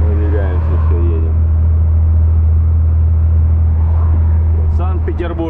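A long-haul truck rumbles along the road near Vologda, a heavy, steady low engine drone filling the cab at close range while someone talks over it.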